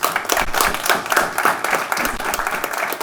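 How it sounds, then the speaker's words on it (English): An audience claps for volunteers at an event, dense continuous hand clapping from many people at moderate distance for a few seconds. "let's give them a big round of applause."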